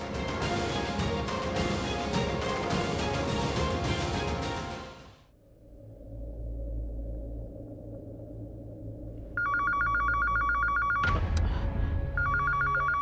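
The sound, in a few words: home landline telephone ringing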